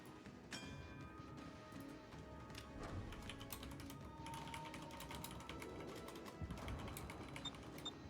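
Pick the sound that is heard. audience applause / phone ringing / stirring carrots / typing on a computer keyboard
typing on a computer keyboard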